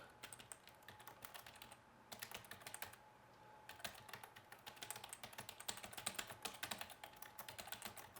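Fingers type on a computer keyboard in quick, irregular bursts of close, soft clicks, pausing briefly twice before resuming faster, with no one talking.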